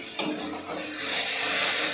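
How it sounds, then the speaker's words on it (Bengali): Spice masala for ghugni being stir-fried in a pan, a steady close sizzle and hiss with a brief scrape near the start, no voices. "আমাদের মশলাটা কষানো হয়ে গেছে"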